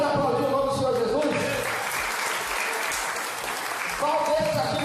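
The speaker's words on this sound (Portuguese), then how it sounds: "Você pode aplaudir o nome do Senhor Jesus?" Church congregation applauding during a sermon, a broad wash of clapping that swells under and between voices, with speech or singing tones audible at the start and end.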